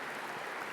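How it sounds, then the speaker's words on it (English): Lecture audience at a foundation's annual lecture keeps applauding, a steady, dense wash of clapping that fills the room without letup, with no voices standing out above it. "They're still applauding."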